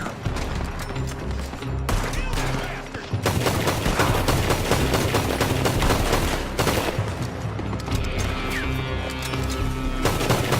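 Sustained gunfire fills a shootout in the video game Red Dead Redemption 2, with rapid overlapping shots and heavy bursts from several guns that go on almost without pause.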